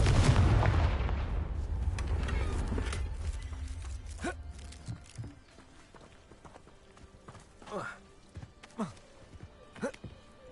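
Confringo blasting spell cast in the video game Hogwarts Legacy: a loud booming blast that decays slowly, followed by scattered sharp clacks and thuds at irregular intervals, fainter toward the end.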